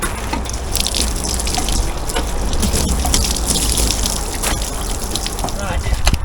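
Water sprays across a Royal Enfield Classic 350 motorcycle, a loud, close, steady hissing gush with splashes running throughout, while someone talks over it.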